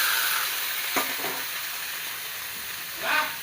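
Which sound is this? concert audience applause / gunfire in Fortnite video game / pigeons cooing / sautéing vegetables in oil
sautéing vegetables in oil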